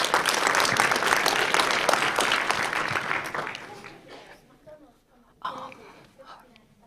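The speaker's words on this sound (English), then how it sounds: "So please give a round of applause for Joanna." An audience at an education innovators' launch event gives loud, sustained applause that fades out over a few seconds, followed by a brief voice.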